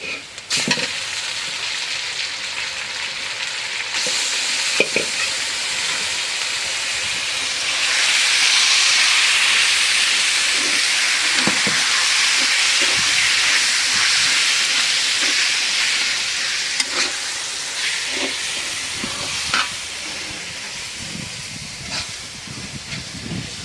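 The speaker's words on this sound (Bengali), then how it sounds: "রসুন পেঁয়াজ মরিচ ভাজা নিলাম। এখন কচু শাক দিয়ে দিই।" Taro leaves frying with garlic, onion and chili in a pan, a loud close hissing sizzle that swells in the middle, with intermittent clinks and scrapes of stirring and no speech.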